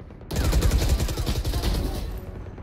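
Rapid gunfire in the video game Valorant, a dense burst of close, loud automatic shots that starts abruptly and keeps going with little pause.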